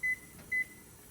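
A kitchen timer gives two short, clear electronic beeps about half a second apart, alone against a quiet room hum.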